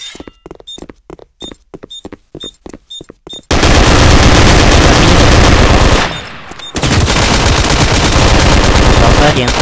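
Counter-Strike 1.6 gunfire, XTCS build: a run of evenly spaced single shots, then a loud, sustained stream of automatic fire that dips briefly and resumes.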